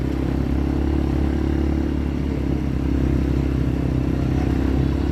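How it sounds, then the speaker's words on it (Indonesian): A motorcycle cruises along a mountain road toward Umbul Sidomukti on Mount Ungaran, its engine holding a steady, close, low drone throughout with no talking. "Nah ini motornya Pak TV ya, dan Mas Gatot."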